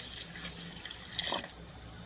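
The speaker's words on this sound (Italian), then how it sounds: "Dopodiché vado ad aggiungere un pochino di brodo." A faint, steady trickle of broth is poured into a pot of pumpkin risotto rice, a soft continuous liquid stream with light splashing.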